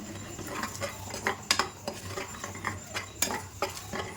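A metal spoon scrapes and clinks against a pan while eggs are stirred with prawns and dry fish, a steady run of close scraping strokes with sharper taps and a faint sizzle underneath.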